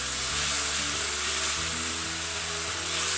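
Onion paste sizzling and frying in a pan, a steady, close, crackling hiss that continues evenly without pause.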